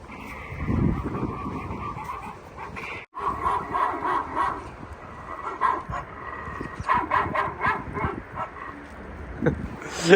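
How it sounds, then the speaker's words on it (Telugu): A recording of dogs barking played outdoors in winter in Korea, in scattered bursts with some whimpering yips, over a continuous noisy background with faint voices. "కుక్కలు మరిగే సౌండ్ రికార్డ్ చేసి అక్కడ అది పెట్టారు"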